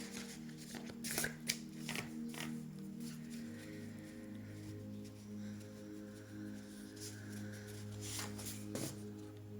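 Tarot cards being shuffled by hand, a steady papery riffling and sliding that runs almost continuously at close range, with a few sharper slaps and faint background noise.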